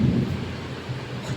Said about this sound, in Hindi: तो बादल गरज रहे हैं।